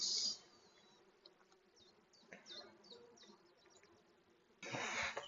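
Honeybees buzz faintly around an opened beehive, a low hovering hum with brief louder passes near the start and end, against a quiet outdoor background.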